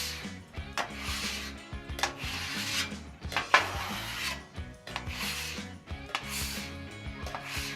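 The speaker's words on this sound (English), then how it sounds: "Just scrape it, get any of the big bits of food off." A Blackstone metal scraper drags across a griddle to clear off big bits of food, making repeated harsh rasping strokes that are loud and close, with brief pauses between passes.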